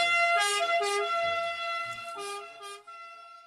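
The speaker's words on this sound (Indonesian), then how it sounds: "Yang ini mobil ambulan." A toy ambulance siren plays a looping electronic two-tone wail, bright and close, running continuously for a few seconds.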